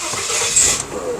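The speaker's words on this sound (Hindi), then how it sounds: "ये इस गाड़ी की स्टार्टिंग है।" A Suzuki Spacia's engine fires up via push-button start, a short close cranking catch settling into a steady hissy hum, with no talking.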